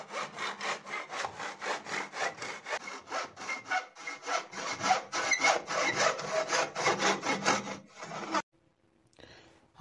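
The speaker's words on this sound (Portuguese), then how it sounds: "E para fazer o corte, veja como o uso do gabarito deixa o trabalho mais eficiente." A baseboard molding being hand-sawn in a cutting jig, with steady back-and-forth rasping strokes, close and loud, that end abruptly near the finish, followed by a brief quiet.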